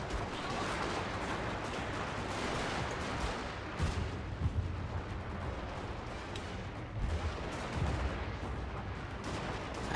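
Rifle volley fire from kneeling troops in the Fall of the Samurai strategy game, heard as dense, overlapping crackling gunfire. The shots come in ragged bursts at a moderate distance, blended with a steady battle din and no voices.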